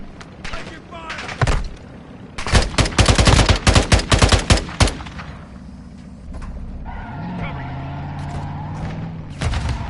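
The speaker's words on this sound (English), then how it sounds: "Taking fire!" Automatic gunfire in Call of Duty: Modern Warfare II multiplayer, a loud clattering burst of rapid shots after a quieter stretch, followed by a vehicle-like drone and distant action, with game voices calling out.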